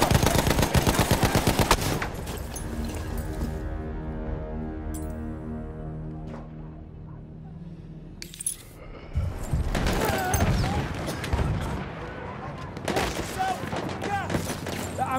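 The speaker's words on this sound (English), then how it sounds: "Enemy machine gun over there!" Rapid machine gun bursts from the Battlefield 1 video game rattle loudly at the start, then give way to ringing tones, impacts and renewed gunfire in a dense battle mix.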